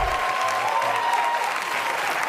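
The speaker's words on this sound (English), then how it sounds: "Let's not applaud yet." Studio audience applause at a live late-night comedy taping, a steady, dense wash of clapping from a large crowd that fills the whole stretch at even loudness with no voices over it.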